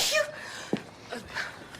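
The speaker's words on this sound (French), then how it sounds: "Vous devriez pas aller voir un médecin parce que vous éternuez beaucoup quand même." A single brief, quiet sneeze sounds close by over faint background noise, with soft breathy sounds before and after it.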